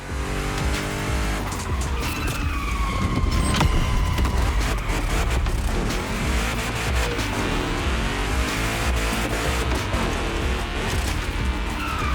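Race cars in a gymkhana race in the game The Crew Motorfest roar steadily, with engines revving and tires squealing and skidding through stunts, loud and continuous throughout.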